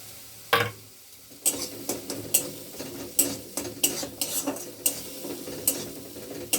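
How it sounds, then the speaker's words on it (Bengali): Chopped chili goes into a hot pan, with a stirring scrape and sharp clatters of a utensil against the pan over a steady low sizzle, the hits repeating irregularly every half second or so. "এবার লঙ্কা কুচানোটা দিয়ে দেব।"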